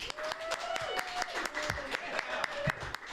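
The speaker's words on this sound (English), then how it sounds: "give a massive applause" An audience at a comedy night applauds a comedian being welcomed to the stage, with dense steady clapping throughout and a few whoops and tonal cheers rising above it.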